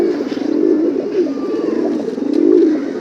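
Pigeons coo in a loft, a loud, close, continuous low burbling with rolling swells and no other sounds.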